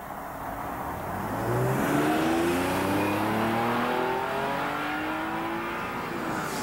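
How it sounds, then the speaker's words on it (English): Honda NSX-R sports car at speed on a test track at a Honda research and development center, its engine rising steadily in pitch as it accelerates past, loud and continuous with no talking. "that was 150 miles an hour going into turn one at Honda's Research and Development Center test track"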